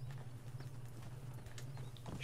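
Quiet clip-clopping horse hooves in the video game Red Dead Redemption, a soft, steady walking rhythm under a constant low hum.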